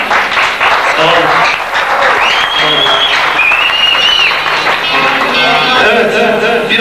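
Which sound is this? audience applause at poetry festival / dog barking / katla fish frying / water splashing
audience applause at poetry festival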